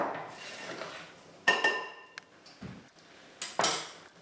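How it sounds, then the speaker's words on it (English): Raspberry white chocolate muffin batter is gently folded in a bowl, giving soft scraping and quiet clinks of a utensil against the bowl, with a few sharper knocks spaced through a quiet kitchen. "here's where you just gently fold it over, just wet everything down so that all the flour is coated."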